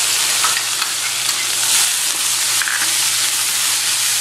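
Curry leaves sizzle in hot oil in a frying pan with roasted chana dal and onions, a steady close hiss and crackle with occasional stirring scrapes throughout, no voices.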